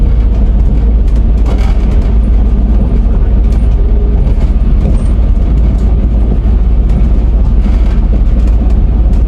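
A steady loud rumble and roar from a brand-new Class 197 train in motion on its first day in service, continuous low-frequency ride noise with rattles and no talking.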